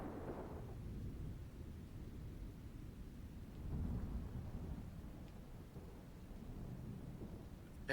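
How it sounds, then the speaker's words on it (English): A thunderstorm ambience from a tabletop game session, with rain and a deep, rolling rumble of thunder swelling midway through a steady, dark, low background wash, with no talking. "Rain begins to fall."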